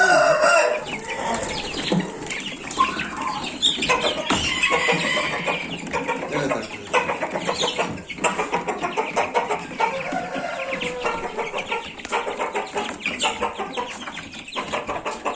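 Roosters and chickens crow and cluck outdoors in sunny weather, a busy, overlapping mix of calls and clucks at close to moderate distance that continues throughout.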